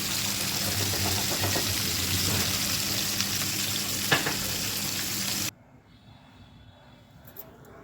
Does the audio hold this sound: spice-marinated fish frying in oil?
yes